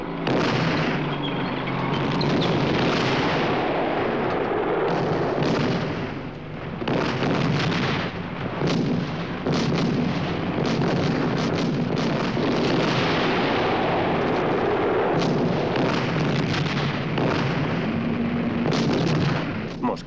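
Sustained, loud battlefield gunfire from tanks and artillery in a 1969 war film about the Battle of El Alamein, with dense overlapping booms and bursts throughout.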